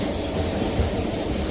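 Interior of a moving train carriage: a loud, steady low rumble fills a brief stretch, with a single dull knock partway through and no voices.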